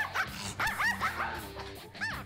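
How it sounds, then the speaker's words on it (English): A dog barks and yips in a quick run of sharp, excited calls, fairly faint and mixed with a low background hum. "We look at the dog, the way the dog is barking, the way the tail's going."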